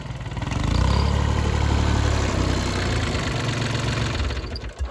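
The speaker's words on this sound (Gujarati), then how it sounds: "હાલે ટ્રેક્ટર" A tractor engine runs in a field being worked for bitter kothimba gourd planting, a loud, steady, low diesel rumble that holds throughout with a slight knocking texture and eases near the end.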